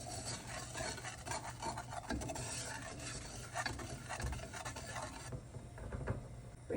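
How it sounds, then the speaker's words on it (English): A sugar mixture being whisked quickly in a bowl, giving a steady close scraping, rubbing rasp that runs continuously throughout and eases slightly near the end. "We're gonna whisk that together super quick,"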